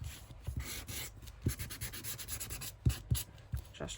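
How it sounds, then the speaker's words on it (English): An electric sander run gently over junk journal paper to distress it, giving a steady abrasive rubbing with a few sharper scuffs, close and alone with no talk. "Run the sander down."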